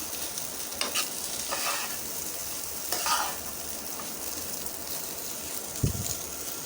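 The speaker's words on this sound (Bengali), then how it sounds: "এখন আমি এটাকে ভালো করে মিশিয়ে নেব।" A spatula stirs and scrapes potato and egg in a hot pan, with soft sizzling frying underneath and a few louder scraping strokes, close by and without talk.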